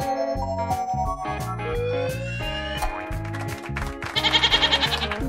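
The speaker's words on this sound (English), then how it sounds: "It's a goat!" A goat bleats in a wavering, pulsing cry near the end, set against a bouncy children's farm-animal tune that plays throughout.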